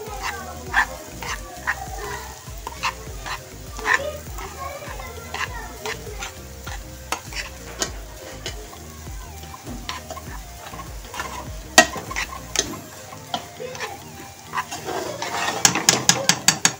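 Semolina (suji) for panjiri roasting in a pan while a spoon stirs it constantly: repeated scraping clicks over a soft sizzle, with a sound like a dog yelping and denser clatter near the end, and a voice speaking at times.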